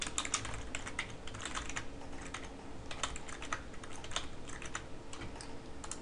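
A name is typed on a computer keyboard in quick, irregular clicking keystrokes that run on without a break, fairly quiet and close, with no talking.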